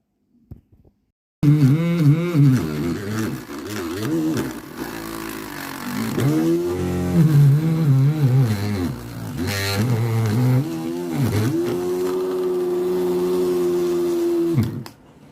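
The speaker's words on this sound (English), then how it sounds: "Now I take the chilies and put them in the machine." A homemade electric chilli cutter machine starts up after a brief silence, then whirs loudly with a rising and falling motor drone as chillies are fed in and cut, running for the rest of the time without speech.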